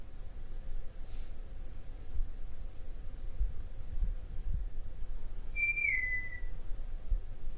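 A single short whistle glides downward, faint against a low, steady background hum.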